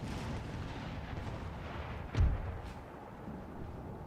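A single cannon shot booms mid-way through a Napoleonic battle in Napoleon Total War, a distant heavy thud over a low rumbling battlefield backdrop.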